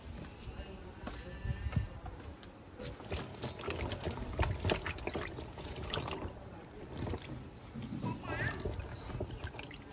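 Cut kundri being washed in water in a kitchen, with irregular splashing, sloshing and clatter of pieces in a bowl, fairly quiet, with voices talking intermittently over it.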